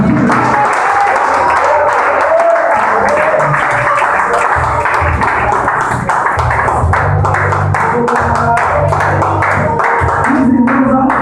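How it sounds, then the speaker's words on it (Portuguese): A church congregation breaks into loud, sustained applause after a blessing, dense clapping filling the room nearly continuously, with a few voices audible beneath it. "Vamos aplaudir"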